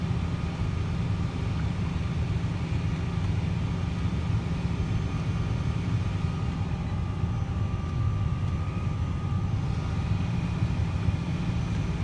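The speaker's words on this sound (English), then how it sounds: "Damn helicopter." A constant low helicopter drone hangs in the air, steady and moderately loud with no voices, passing overhead.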